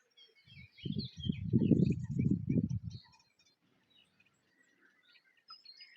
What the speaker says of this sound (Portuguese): Muita variedade de pássaro, muita.